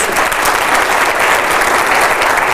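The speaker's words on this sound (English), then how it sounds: "please join me in giving a round of applause to all our speakers" Audience at an ethical leadership forum applauds its speakers, steady dense clapping filling the room at close range, with no talk over it.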